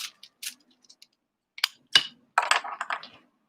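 Scissors snipping through a thin foil sheet, a few sharp crisp cuts spaced apart and followed by a denser run of crinkly cutting and rustling at close range.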